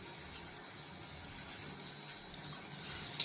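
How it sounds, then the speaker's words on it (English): Water runs steadily from a tap as a shaving soap tub is rinsed, a faint, even hiss that stays constant throughout with a small splash at the end. "I'm just gonna rinse off the tub"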